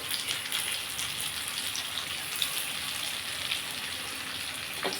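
Potatoes frying in oil in a pan, a soft continuous sizzle with faint crackles throughout, moderately quiet and unbroken.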